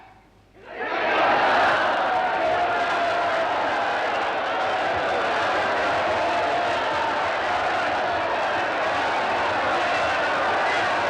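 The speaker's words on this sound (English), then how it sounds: "Right, cheer!" A large crowd of film extras on a Roman epic set erupts into loud, sustained cheering and shouting after a brief quiet start, holding at full volume to the end.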